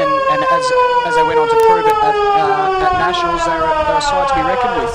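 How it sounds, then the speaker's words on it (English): A football ground siren at Gardens Oval wails continuously with a slowly falling pitch, loud and sustained throughout while a commentator talks over it. "that is just the siren that we're blessed with here today here at Gardens Oval"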